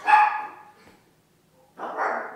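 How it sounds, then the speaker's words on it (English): Dogs bark in two bursts, a sharp, loud bark at the start, a silent gap, then a rougher, noisier bark near the end, fairly close, with no talking. "I might have dogs going crazy."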